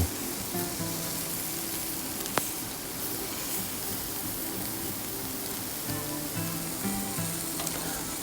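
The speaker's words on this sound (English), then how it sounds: "Listen to the sizzle." Steady, dense sizzling of a T-bone steak frying on a hot Blackstone griddle, continuous throughout with a brief sharp tick partway through and no talking.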